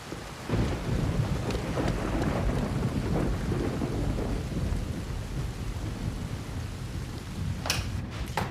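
Steady rain pours down throughout, a dense hiss with low rumbling underneath and a sharper patter near the end.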